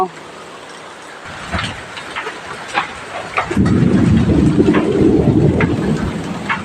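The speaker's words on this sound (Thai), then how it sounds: "ฝนตกลักษณะนี้น่าจะตก น่าจะตกยาวนาน ฟ้าร้องคำรามไป" Steady rain hiss with scattered patters at a temple in Chae Hom, Lampang, Thailand, then a deep rolling rumble of thunder swells in midway and keeps growling low and continuous.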